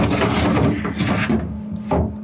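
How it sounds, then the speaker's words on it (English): Refrigerator fruit drawer pulled open, a close rubbing plastic scrape followed by a few lighter knocks and a final short slide, over a low steady hum. "And into the fruit drawer."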